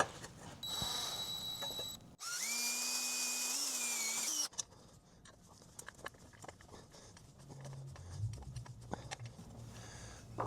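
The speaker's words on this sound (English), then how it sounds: "So instead of having multiple holes in there, you'll just drill it out." A power drill bores out a burner tube on an AquaHot heater, a steady high whine lasting a couple of seconds, then clicks and small handling noises follow.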